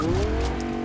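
A car in the video game Fortnite drives with a brief, loud tire squeal that rises in pitch over the engine's hum, lasting under a second.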